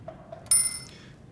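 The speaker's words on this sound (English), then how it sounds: "I'll just give you the sound of the bell, which is very nice," Typewriter bell ringing at the end of a line, a single bright metallic ding close and loud after a couple of faint mechanical clicks, ringing out briefly and fading.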